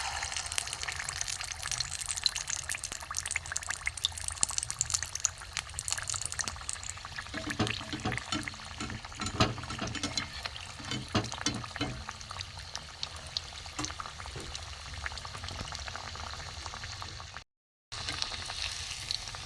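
Cauliflower and carrot pieces frying in oil in a wok, a continuous soft bubbling sizzle with occasional crackles, close by, and a brief dropout near the end.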